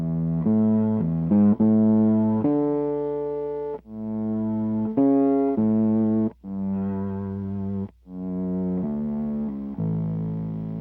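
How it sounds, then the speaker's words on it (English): Bass guitar run through an Electro Harmonix synth pedal set for a bowed effect, playing a slow phrase of sustained, swelling synth-like notes with soft attacks, loud and close, with no talking. "This is a bowed effect."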